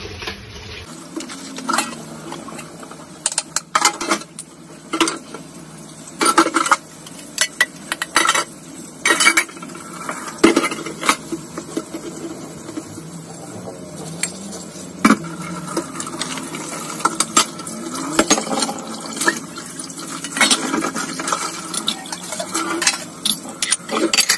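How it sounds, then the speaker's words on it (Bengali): Dishes being washed, with repeated clinks and clatters of utensils and pots over steady running water, busy and fairly loud throughout. "এখন ভালো জমা হয়ে গেছে, ওইগুলো আগে ধুয়ে পরিষ্কার করে নিই।"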